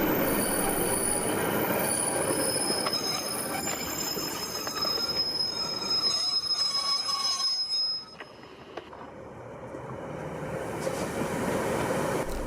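A Blue Peter charter train rolls past with loud, sustained wheel squeal and clattering rail noise, fading briefly before rumbling back up.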